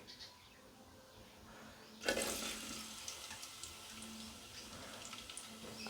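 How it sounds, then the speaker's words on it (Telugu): Onions dropped into a tablespoon of hot oil for a tamarind stew set off a sudden loud sizzle that begins partway through and holds as a steady hiss. "ఆయిల్ హీట్ అయ్యాక ఆనియన్స్ వేసుకున్నాం"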